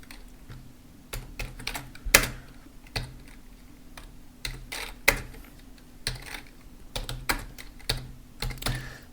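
A computer keyboard clatters as code is written, with irregular keystrokes in short quick bursts and a few sharper taps, close to the mic and heard alone.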